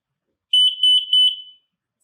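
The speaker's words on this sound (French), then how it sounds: "Vous allez voir normalement un code multicolore de la LED et un bip sonore" A Zephyr Mini drone parachute gives a loud, clear power-on beep pattern of four quick high tones in a stuttering run, the last one trailing off, alone in silence.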